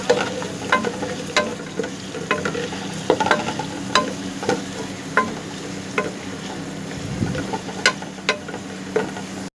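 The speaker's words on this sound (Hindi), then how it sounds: "प्याज को अच्छी तरह से भून लेते हैं जब तक इसका कलर थोड़ा सा लाइट ब्राउन ना हो जाए" Onions sizzle steadily in a hot pan while a spoon stirs and scrapes, producing repeated sharp clicks over the constant frying hiss, cooking toward light brown for chicken karahi.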